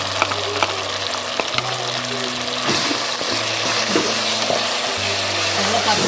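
Mutton biryani masala with mint sizzles and fries in a pan, a steady crackling hiss with occasional stirring scrapes and low background hum, loud and close.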